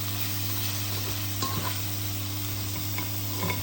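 Chicken liver menudo is stirred in a frying pan, giving a steady close sizzle with soft scraping sweeps of the utensil through the food.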